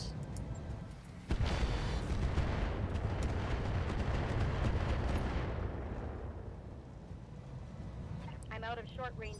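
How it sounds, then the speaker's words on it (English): Rockets fire and explode in the mech combat game RogueTech: a sudden loud blast opens a dense, rumbling barrage that holds for several seconds, then fades into a quieter tail. "this is the time to fire the rockets"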